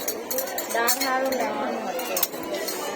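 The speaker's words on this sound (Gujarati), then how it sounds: "જો દોસ્તો મળી ગયા મને મોટા ચમચા." Large steel spoons and ladles clink and rattle lightly as they are handled on a store shelf, with several small metallic taps under continuous talking and background shop chatter.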